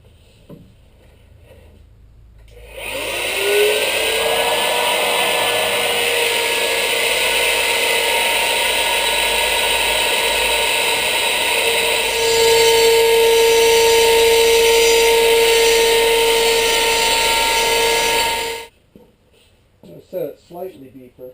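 A router bit cuts through a plywood sheet in one long continuous pass, a loud steady high whine with a rising tone that holds for about fifteen seconds, then stops abruptly with brief quiet afterwards.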